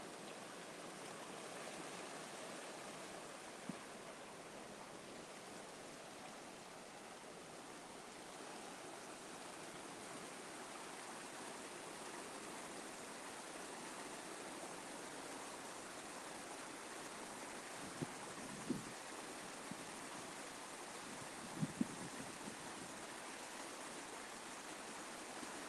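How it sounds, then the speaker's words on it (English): Seawater rushes steadily into a rock pool at the ocean's edge around sunrise, a constant broadband wash with a few faint knocks and splashes near the end, and no talking. "You can see the water coming in from the sea."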